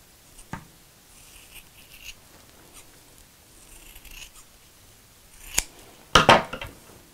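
Scissors snipping through felt to cut out dinosaur legs for a sewing craft, with a few sharp isolated snips and then a quick close burst of cutting near the end.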